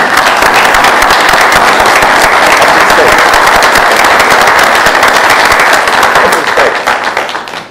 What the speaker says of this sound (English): we will give you a rousing round of applause